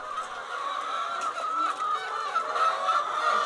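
A dense flock of hens in a poultry barn fills the air with overlapping honking clucks and squawks, a constant mid-level chorus with no voices.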